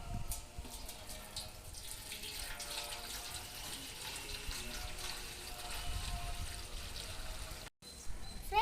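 Water pours steadily from a container into a bird drinking bowl outdoors on a summer day, a continuous splashing trickle that briefly cuts out near the end.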